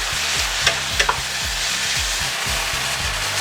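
Food stir-fried in a hot pan with chili dipping sauce, a steady loud sizzle broken by rhythmic scraping strokes of the spatula and a few sharp clinks, with no talking.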